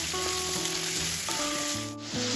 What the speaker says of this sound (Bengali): এবার আমি এর মধ্যে দিয়ে দেবো কেটে রাখা ঝিঙেটাও তেলের সাথে একটু হালকা ভেজে নেব।